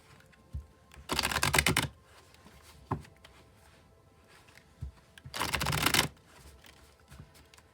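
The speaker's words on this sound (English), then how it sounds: "I'll shuffle till they feel ready, and then I'll cut, and we'll deal right off the top." Two short bursts of tarot cards being riffle-shuffled, each about a second long and fairly close, separated by quiet gaps with a few soft taps and card handling sounds.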